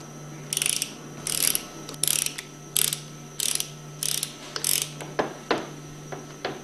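A hand ratchet clicks in several short bursts while torquing plunger nuts on a Powerline plunger pump being reassembled, crisp close-up ratcheting with brief pauses, then a few single metallic clicks near the end.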